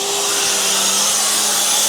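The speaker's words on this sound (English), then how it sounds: "That's that air start valve that's leaking." A leaking air start valve on a Mack R600 truck that sat for twelve years, giving a steady, loud, close hiss of escaping air with a faint tonal hum underneath.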